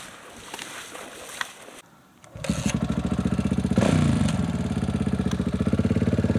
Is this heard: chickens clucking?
no